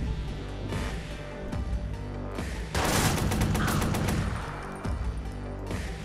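Video game gunfire crackles in rapid bursts, with a dense sustained volley in the middle, loud and close, with no talk.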